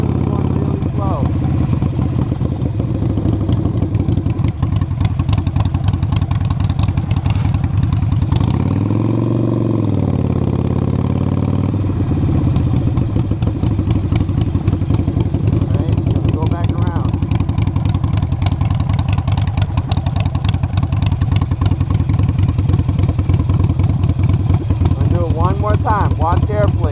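A motorcycle engine idles and then pulls away slowly as the clutch is let out and the throttle is eased on, with a low steady engine rumble throughout, a brief swell of revs, and someone talking over it.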